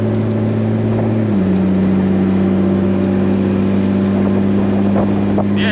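A BMW E30 with a swapped 2JZ engine cruises along with a loud, steady engine drone, pitch stepping down briefly as it shifts, plus wind and road rumble inside the car.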